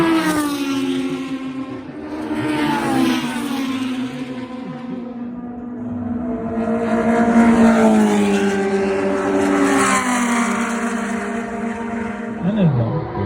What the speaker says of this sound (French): les Formule 2 d'avant 1979, des voitures qui là aussi font un bruit incroyable